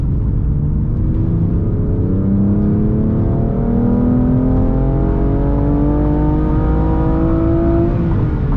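A BMW M3, once flood-damaged, pulls hard in third gear, its engine note climbing steadily in pitch as it revs up through the gear, loud and close with no talk, ending in a sharp cutoff.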